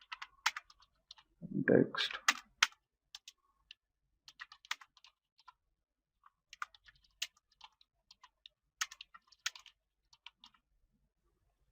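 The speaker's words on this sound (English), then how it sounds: "I'm just typing here" Someone types dummy text on a computer keyboard while editing in Adobe Premiere Pro. Sparse, irregular key clicks come in short bursts, with a brief louder noise near the start.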